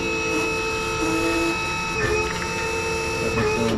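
Hydraulic tongue jack motor raising an Iron Bull dump trailer, a steady electric whine with sustained mechanical hum and a few small clunks, close and continuous with no talk.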